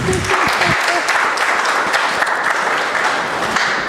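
A crowd claps steadily throughout, a dense, lively round of applause with a brief voice near the start.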